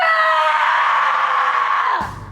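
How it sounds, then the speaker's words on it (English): A girl lets out one long, loud, sustained scream into the wilderness, strained and piercing, held for about two seconds before cutting off abruptly. "And then Lottie screams out into the wilderness."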